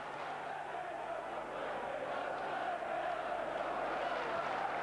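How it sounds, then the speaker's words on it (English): Football crowd at a 1991/92 Sunderland v Millwall Second Division match, a steady loud roar and buzz of thousands of fans after a Sunderland goal, sustained and even throughout. "So Sunderland lead by 1-0, and that's got the crowd buzzing."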